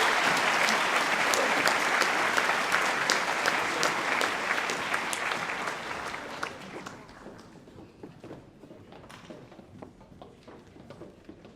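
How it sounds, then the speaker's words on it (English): An audience at a 2018 Year 12 graduation ceremony at Engadine High School applauds graduates with a full, steady round of clapping that gradually thins and fades into scattered claps. "Can we please have a round of applause for these graduates?"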